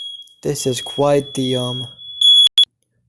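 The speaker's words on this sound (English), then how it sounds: "so that was a smoke alarm." A smoke alarm in a home where a family meal is being cooked emits a steady, piercing high tone under a person talking, then breaks into two sharp, loud beeps before cutting off.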